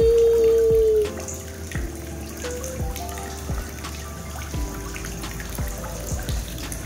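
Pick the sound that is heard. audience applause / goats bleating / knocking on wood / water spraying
water spraying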